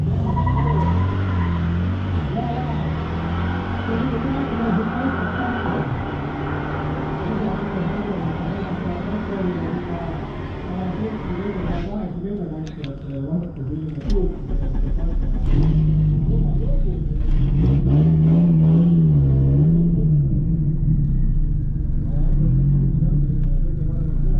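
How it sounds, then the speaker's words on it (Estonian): An Audi Coupe racing car in B-class at a one-mile top-speed challenge runs its engine with a steady rumbling drone that swells into a louder revving surge partway through, with talk heard over it. "järgmiseks meil stardijoonel auto numbriga 65, Karl-Martin Karlsson Audi Coupeega sõidab ta B-klassi ja hoiab peal terve miili."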